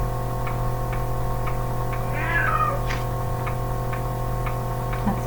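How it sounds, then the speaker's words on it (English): Pet cat giving one short, vocal meow indoors, faint and brief against a steady background hum and a regular ticking clock. "That's my kitty."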